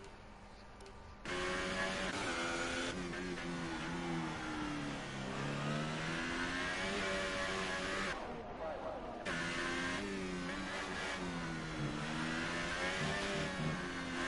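Racing car engine in a sim racing league game with DRS open, revving loudly and shifting through gears across the line, the high whining pitch steady after a short quiet start, with commentary talking over it.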